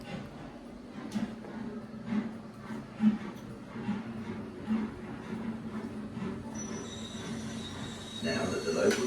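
A local train rolls slowly into a station, a steady low rumble of wheels with periodic rhythmic clunks over rail joints and a faint squeal rising near the end, under light background noise.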